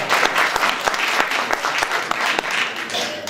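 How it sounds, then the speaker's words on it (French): Audience applause at an astronomy association talk on the Milky Way, a dense steady patter of many clapping hands filling the room, loud and continuous from start to finish. "on peut les applaudir, hein"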